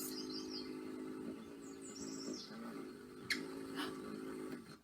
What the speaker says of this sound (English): I didn't know that a hummingbird makes that noise